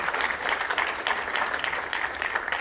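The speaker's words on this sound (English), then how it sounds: "a round of applause for our two MEPs on the ring" An audience applauds two Members of the European Parliament at a health summit, with steady, dense clapping that holds even and loud throughout without voices on top.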